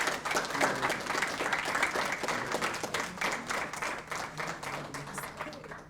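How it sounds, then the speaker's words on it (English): Audience applause at a high school IB ceremony in a hall: steady clapping from a crowd through most of the stretch, with a few voices mixed in, thinning slightly toward the end. "Let's give them a round of applause."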